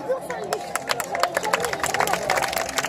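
Scattered handclaps from an outdoor crowd at a village small-animal fair, a thin uneven patter of applause over murmuring voices and crowd noise.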